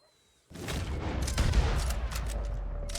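Gunfire in the online Western game Red Dead Online: a dense, loud burst of shots starting abruptly and continuing as sustained rapid fire with booming low rumble throughout.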